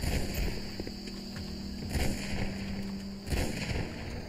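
Gunfire in the video game Hunt Down The Freeman: scattered shots and bursts at moderate loudness over a droning background hum, with a few sharper cracks standing out.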